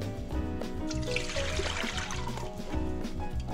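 Distilled white vinegar is poured back into a container, a steady close trickle of liquid with some gurgling, faint and continuous with no speech.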